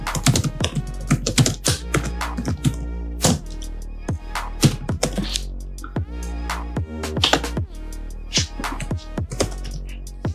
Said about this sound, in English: I'm typing the recipient email address.